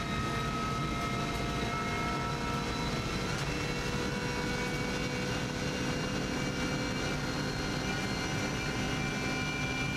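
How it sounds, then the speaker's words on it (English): A helicopter's steady engine drone with a layered, whirring tone hums continuously overhead during an Isle of Man TT lap in a Subaru Impreza rally car, holding an even loudness throughout. "Helicopter always comes into sight here, you can see that above."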